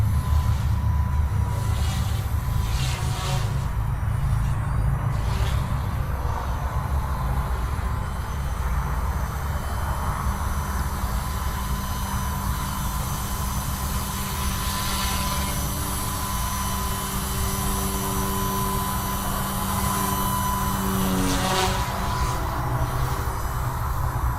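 A Blade 150 S Smart RC helicopter on its maiden flight hovers steadily with a continuous whining rotor and motor hum, holding a fairly even level for the whole stretch with slight shifts in pitch as it maneuvers.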